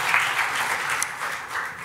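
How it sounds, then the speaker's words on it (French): A conference audience at the SimforHealth annual event gives a short burst of steady, close applause, dense clapping that stays even throughout. "on les applaudit tous"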